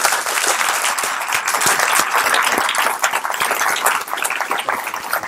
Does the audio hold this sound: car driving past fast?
no